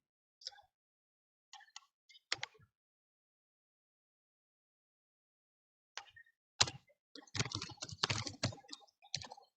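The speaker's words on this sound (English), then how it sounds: "let me start typing this then" Typing on a computer keyboard comes in quiet, scattered bursts: a few isolated key clicks early on, a long pause, then a denser run of rapid tapping near the end, close by and faint.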